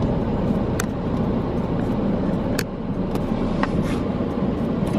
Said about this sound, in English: these cars be zooming down the street